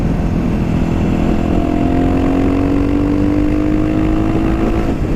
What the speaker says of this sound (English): It's surprising how much that exhaust opened up the sound to the bike.